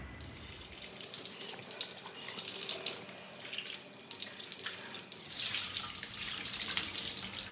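Fresh fish gets washed under a running tap, with steady splashing water that rises and falls in intensity and patters against the catch for several seconds, up close and with no voices.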